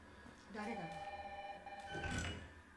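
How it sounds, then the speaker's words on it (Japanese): A telephone rings in the video game Resident Evil 3, a quiet, sustained electronic tone that rises and holds over about two seconds, with voices talking underneath. "電話だ。"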